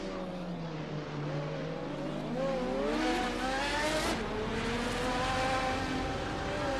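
Several race cars, GTRs and a pack of Trans Ams, engines whining and shifting pitch as they jostle on a game track, a steady loud mix of overlapping engine tones with rising and falling sweeps and no talk.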